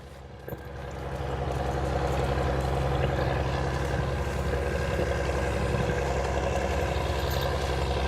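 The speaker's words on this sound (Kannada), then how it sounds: "ಬೋಟ್ಗಳು ಹೋಗ್ತಾನೆ ಇದೆ, ನಿಲ್ತಾನೆ ಇಲ್ಲ" A motorboat engine runs continuously at sea off Malpe, Udupi, a steady, droning motor, loud and close, with a low rumbling hum that barely changes.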